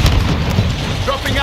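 A grenade explodes in the Call of Duty Modern Warfare 2 video game, a loud, close, low-pitched boom that rumbles through the short moment.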